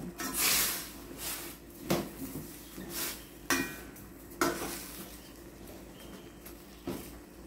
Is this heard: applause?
no